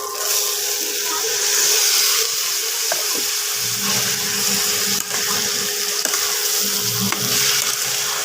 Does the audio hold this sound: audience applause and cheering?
no